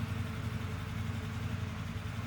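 A 2025 Indian Scout motorcycle engine idling after starting, a steady low rumble with an even, continuous throb at moderate level and no voices.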